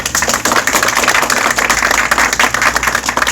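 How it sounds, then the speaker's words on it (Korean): Dense, loud applause from an audience at a Seoul mayoral campaign event for candidate Park Young-sun, continuous rapid clapping filling the whole stretch with little else audible. "힘찬 박수 부탁드리겠습니다"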